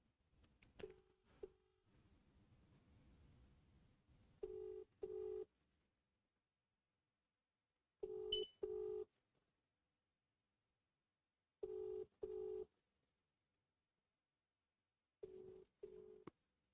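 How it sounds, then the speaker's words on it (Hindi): A telephone rings out on an unanswered call, repeated paired ring bursts separated by long silences, clear and close with no one picking up. "घंटी तो जा रही है घंटी"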